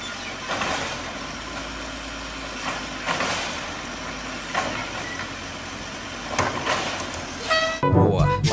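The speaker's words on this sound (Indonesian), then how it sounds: "Di sini ada truk sampah." A garbage truck's engine idles and rumbles steadily, swelling with a few louder bursts and a brief toot near the end.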